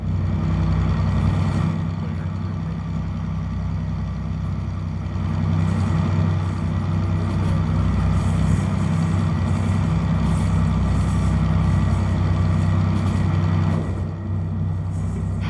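A modded locomotive in the Derail Valley train simulator runs steadily, with a deep, droning engine rumble and a continuous low hum, fairly quiet and unbroken throughout.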